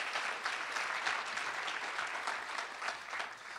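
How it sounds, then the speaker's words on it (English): An audience at a community unity dinner breaks into applause, a dense, even wash of many hands clapping at moderate volume that holds steady throughout without a break. "You can clap."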